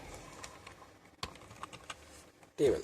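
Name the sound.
typing on a computer keyboard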